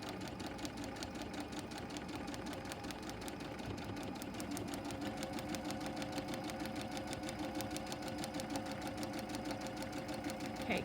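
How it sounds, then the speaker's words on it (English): A sewing machine stitches quilt block sections together, a close, steady, rapid needle chatter with a constant motor hum running unbroken throughout. "all we have to do is sew the sections together"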